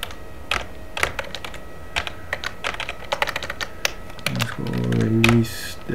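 Fingers typing a command on a computer keyboard while setting up an Ubuntu server, a quick irregular run of close, crisp key clicks, then a brief low mechanical hum near the end.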